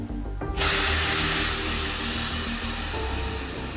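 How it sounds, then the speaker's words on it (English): An air-powered vacuum pump cleaning an aircraft fuel tank during a major maintenance check on an Airbus A330-300, starting abruptly and then holding a loud, steady hiss and rush. "This is the vacuum pump that works with air, because obviously you cannot work with electricity in the fuel tank."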